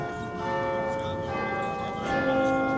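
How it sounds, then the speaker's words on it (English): A church bell rings with sustained, overlapping tonal hum at steady loudness, with no speech. "the bell rang."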